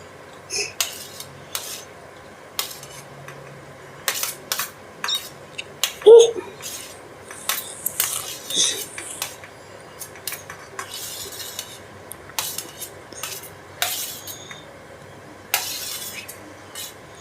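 A spoon scrapes and clinks against a pan and a small mixer jar as roasted green chilies, tomato, onion and garlic are scooped out, with sharp metallic taps at irregular intervals and soft shuffling between them.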